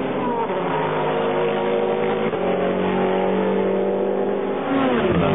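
A Toyota GT-One and a Mercedes-Benz CLR race at Le Mans in 1999, their engines roaring loud and continuous at high revs with a slight pitch shift as a car passes.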